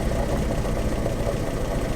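A Land Rover Series 3 engine with a misfire runs at idle. It gives off a steady, fairly quiet low rumble with no voices over it.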